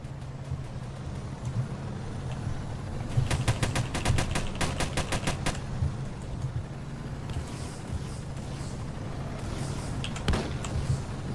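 Rapid bursts of machine gun fire from a Tiger II tank in the Roblox game Armored Patrol cut through a constant low engine drone, with a few shorter bursts later and no talking.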